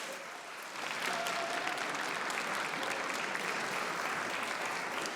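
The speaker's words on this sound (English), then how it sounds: "Give them a round of applause" A university graduation ceremony audience gives a fairly subdued round of applause, which swells after a second and then continues as steady, even clapping from a large room.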